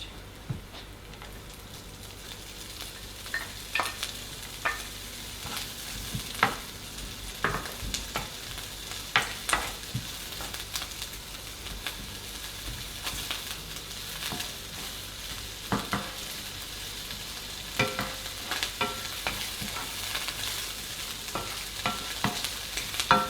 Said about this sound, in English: we can put in our ham if you're using ham to make sure that becomes nice and caramelized